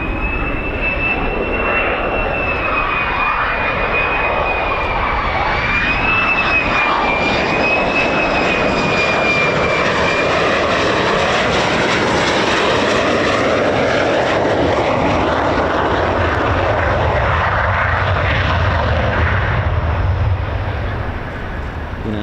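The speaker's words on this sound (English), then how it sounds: "F-35." An F-35 fighter jet flying at RAF Lakenheath, a loud, continuous engine roar that swells and holds for over twenty seconds, dominating everything.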